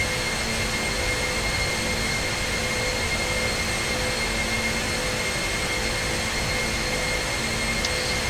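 Four engines of a Boeing 747-400 in flight simulation hum in a steady, even drone with faint high whine, unbroken and constant throughout with no voices.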